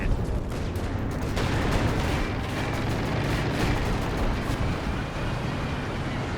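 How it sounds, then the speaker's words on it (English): An artillery barrage in the strategy game Company of Heroes 2, with loud, dense, overlapping explosions and booming shell impacts rolling on without a break. "Nice barrage there."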